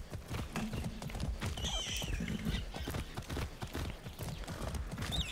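Hoofbeats of a painted horse galloping in the video game Far Cry 6, a steady clip-clop rhythm running throughout with a brief whinny midway, set against busy game background sound.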